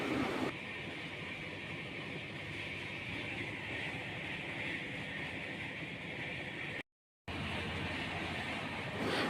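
Steady rumble and rush inside a moving passenger train at dawn, a constant broad roar with faint rhythmic clatter of the wheels, continuous apart from a brief break.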